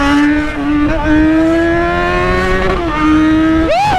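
A loud engine revs hard, its pitch holding high then dipping and surging again near the end, with a sharp climbing rev at the finish.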